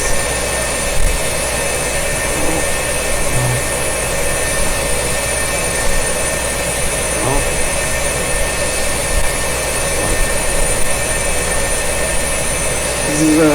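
An F-4 Phantom II jet engine runs in a flight simulator game, a constant loud droning whine with steady tonal hum and no spoken words, broken only by a few faint clicks.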